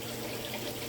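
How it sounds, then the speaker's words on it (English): Steady rushing flow of water pumped through a homemade tournament catfishing livewell, a continuous even hiss with no talk, close and moderately loud. "Water's getting pumped out"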